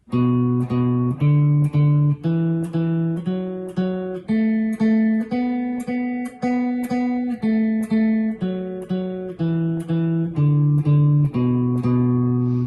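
Clean guitar notes climb and descend a scale, each note plucked twice in an even, steady rhythm, close and clear with no talking.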